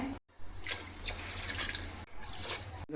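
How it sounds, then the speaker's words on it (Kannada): Water is poured into a pot of mutton soup while preparing mutton biryani; a steady splashing, trickling pour runs close by, with a brief break near the start and another near the end. "ನೀರು ಸೇರಿ ನಾನು 6 ಗ್ಲಾಸು ನೀರನ್ನ ಸೇರಿಸಿದ್ದೀನಿ"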